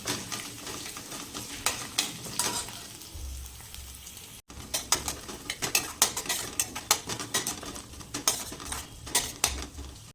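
Garlic and green chili paste being stirred into frying onions in a pan, a repeated scraping clatter of a metal spoon against the pan over a soft background sizzle, close and rhythmic.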